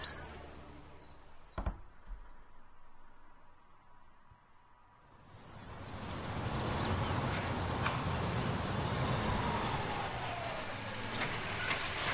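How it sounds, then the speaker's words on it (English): An old pickup truck in the adventure game Life Is Strange gives a brief clank, then a low engine rumble rises and continues steadily, moderately loud. "That ah, is a pretty old truck."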